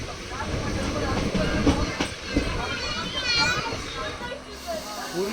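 Interior of a moving Indian passenger train, a Ranakpur Express with a WAP7 locomotive, heading through Rajasthan: steady rolling rumble and rail clatter fill the carriage, with children's voices and chatter mixed in throughout.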